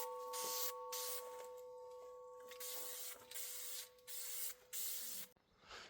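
Glitter spray paint hissing from an aerosol can outdoors, in long steady bursts with short pauses between sprays, close and loud, alone without talk.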